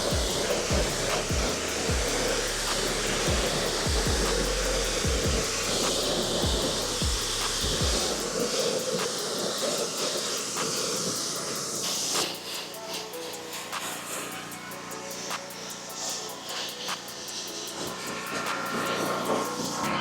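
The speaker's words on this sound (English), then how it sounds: "now we finished rinsing down the vehicle" A car being rinsed down with a steady, close water spray before ceramic coating, a continuous broadband hiss with a throbbing low motor-like rumble under it for the first several seconds, then a brighter, uninterrupted spray.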